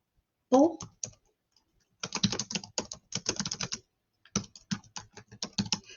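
Bursts of clattering keystrokes on a computer keyboard, heard close, in quick irregular runs separated by short pauses, with no talking over them.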